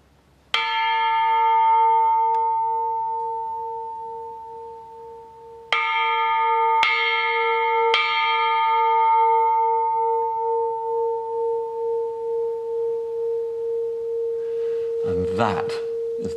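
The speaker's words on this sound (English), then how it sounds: "I'm going to ring the bell for the first time in 25 years" A church bell, rung for the first time in 25 years, strikes once, then three more times in quick succession, each clear chime ringing out and slowly fading.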